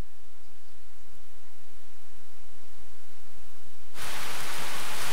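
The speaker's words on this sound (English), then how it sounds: "A gentle rain begins to fall." Gentle rain falls in the video game Fate/Extra, a soft steady wash that is very quiet at first, then swells abruptly into a loud, close hiss of broadband noise for the final second.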